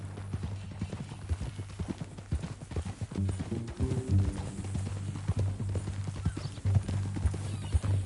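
Horse hooves clip-clop at a steady walking rhythm in the Red Dead Redemption 2 video game, moderately close, with a faint whinny and low ambient hum underneath.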